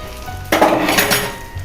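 Tangra fish paturi cooking in a kadai: a sudden burst of sizzling and a metal pan scrape as the pan is lifted off the stove, close and fairly loud, with the frying hiss continuing.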